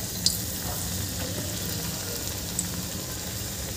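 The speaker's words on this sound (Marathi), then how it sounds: "तेलामध्ये जेवढे मावेल तेवढे यामध्ये घालून घ्यायचे आहे. छान तळले गेले पाहिजे." Bread pakoda pieces deep-frying in a pan of hot oil, giving a steady, dense sizzle with a couple of sharp pops and no voices.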